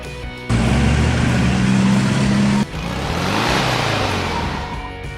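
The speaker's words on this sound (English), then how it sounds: "Delivery truck." Delivery truck engine running loud and steady, a droning low rumble that drops off after two seconds and gives way to a second stretch of revving engine noise.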